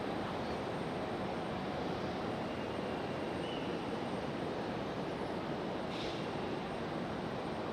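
An airliner takes off from runway 23 Left at Raleigh-Durham International on a stormy afternoon, its broad, even engine roar filling the air from a distance for several seconds with no voices.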